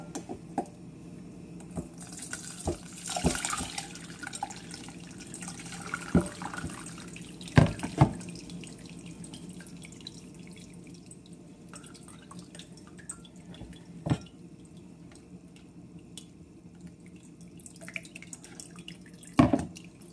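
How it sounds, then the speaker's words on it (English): Whey drains from goat's milk curds through a basket, a quiet steady trickle of liquid with occasional drips and small knocks, close and soft throughout. "I'm going to strain out the whey in this basket."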